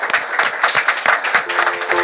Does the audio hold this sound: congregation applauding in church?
yes